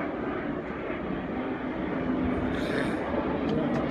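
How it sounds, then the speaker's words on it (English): A fixed-wing airplane passing overhead near an airport, a steady broad engine roar that holds at a fairly loud level throughout, with no speech over it. "hear a plane going over"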